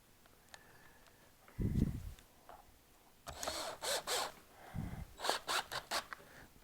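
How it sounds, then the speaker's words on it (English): A power drill whirs in short bursts, driving screws into a drill handle, with a brief pause between runs and faint handling clicks; close and fairly quiet, no talking. "I'm going to put the screws in."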